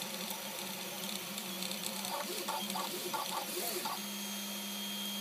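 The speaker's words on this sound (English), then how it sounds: "This is now printing at 50 millimeters per second." A Huxley 3D printer printing at 50 mm/s whirs steadily up close, with a constant motor hum and quick runs of chirping stepper-motor tones as the print head moves.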